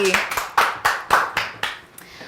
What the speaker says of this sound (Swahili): Sawa, makofi.